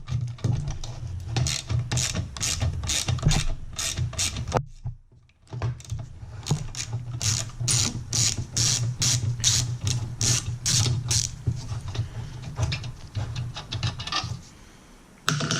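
Driver with a P25 bit turning a screw out of a BMW E46 bi-xenon headlight housing, a close, steady run of rapid scratchy ticks with a short pause in the middle.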